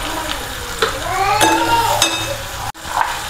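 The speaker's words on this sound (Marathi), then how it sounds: "आपलं कांदा टोमॅटो चांगलं परतून झालंय" Onion and tomato sautéed with turmeric and salt for a bhindi dish, a close, fairly loud sizzle with scraping stirs of a spatula and a sharp clank of utensil against the pan near the end.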